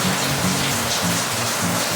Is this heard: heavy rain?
yes